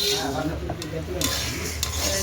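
Lentils (dal) fry in a pan and are stirred with soft scraping strokes over a faint sizzle, broken by a few sharp metallic clinks. The sound is quiet and close.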